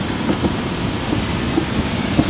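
Independence Day fireworks exploding like thunder, a continuous rumbling wash with scattered sharp pops and booms, heard from a height at a distance and fairly loud throughout.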